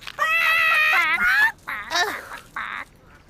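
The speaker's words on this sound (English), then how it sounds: "Oh, it's that duck." A cartoon duck quacks in a few separate nasal, squawking bursts, loud and close with short gaps between calls.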